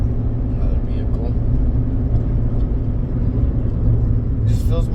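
A vehicle drives past outside late at night, a steady low rumble of engine and tires that stays loud and even throughout, with a faint voice murmuring beneath it.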